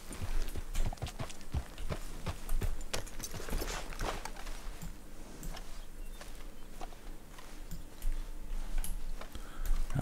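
Horse hooves clip-clop in a steady, close rhythm while riding in the video game Red Dead Redemption 2, with faint ambient game sounds underneath.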